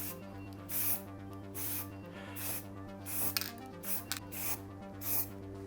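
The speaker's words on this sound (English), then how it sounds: "It should be sprayed from a distance of 25 to 30 centimeters." Short repeated bursts of aerosol spray paint from a can held about 25 to 30 centimeters away, laying a thin first coat on flat surfaces; hissing puffs recur roughly every second over a steady low hum.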